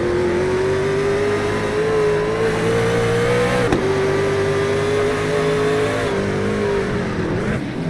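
A race truck engine in a NORA truck series off-road race at Naval Base Coronado screams loud and sustained, its pitch climbing, then it briefly drops midway on a downshift and winds back up.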